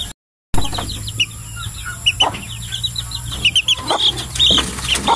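High, repeated peeping from a group of young chicks being raised for meat, bright overlapping cheeps at close range over a faint steady hum, with no talk.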